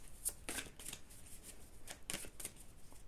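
Tarot cards are shuffled by hand in quick, crisp bursts of riffling and flicking. The close, soft slaps and rustles come in uneven clusters, with no talking.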